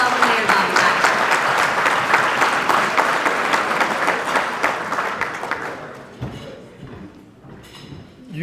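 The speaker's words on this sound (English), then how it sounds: "So can y'all please do a round of applause before we move along to welcome Mayor Dyer" A crowd at a police awards ceremony gives sustained applause welcoming the mayor, loud and dense at first and then thinning out into scattered claps as the noise fades.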